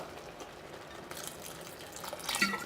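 Water is poured into a pan of green peas curry, a soft trickling splash that builds toward the end over quiet kitchen background, with no talk in the clip.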